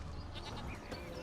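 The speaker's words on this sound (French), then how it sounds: "Là, le bruit de la chèvre." A goat bleats in The Witcher 3, a few quavering cries close by over a busy game soundscape.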